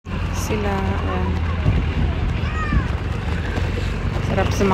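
A steady low motor drone of a boat on the water at Bentenjima, Hamamatsu, Shizuoka, Japan, constant and fairly loud, with faint voices chattering in the background.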